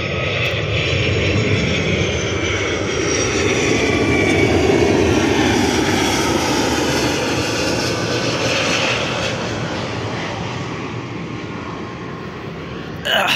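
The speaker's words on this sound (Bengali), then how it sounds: "যে বিমানটা গেল এটা একটা কার্গো বিমান।" A cargo aeroplane passes overhead above a sunny fishing spot, a loud broad engine roar that swells to a peak mid-pass and slowly fades.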